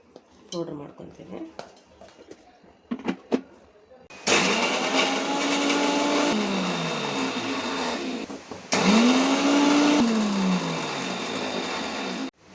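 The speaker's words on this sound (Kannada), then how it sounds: "ಎಲ್ಲ ಇಂಗ್ರೀಡಿಯೆಂಟ್ಸನ್ನ ಮಿಕ್ಸಿ ಜಾರ್ಗೆ ಹಾಕಿ ಪೌಡ್ರ್ ಮಾಡ್ಕೋಬೇಕು" A few clicks and taps, then a mixer grinder roars loudly in two long bursts while powdering dry red chillies, its whine rising then falling, with a brief pause between them.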